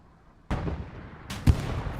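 A tank cannon firing in Hell Let Loose: a heavy sudden boom that rolls off into a rumbling tail, followed by a second sharp report about a second later, distant-sounding with no voices.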